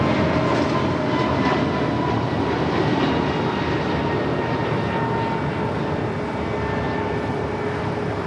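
Boeing 787 Dreamliner taxiing at LAX, a steady, moderately loud engine roar and whine that holds throughout with no one talking.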